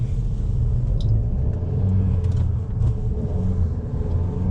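A Dodge Dart's engine runs steadily while the car is driven, a continuous low rumble with mild revving close by and no talk.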